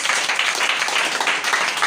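A church congregation claps and applauds for Jesus, a dense, steady burst of many hands close by that fills the whole moment.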